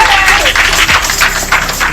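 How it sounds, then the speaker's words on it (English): Audience clapping for Taz at a speech event, dense and steady hand claps filling the short stretch, with voices mixed in. "Let's give a hand clap for Taz."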